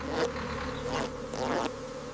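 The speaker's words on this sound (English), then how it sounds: "Stay alert. Bees are very active." Honey bees buzzing around an active hive while a beekeeper gets ready with a smoker and protective suit, a steady droning hum with a few swelling bursts as bees fly close past, no one speaking.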